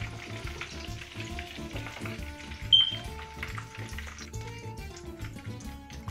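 Cauliflower 65 fries quietly in a pan, a soft sizzle under a steady tonal hum with a brief sharp click midway, heard close and without speech.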